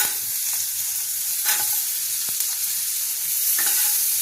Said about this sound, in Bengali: হালকা করে ফ্রাই করে নেব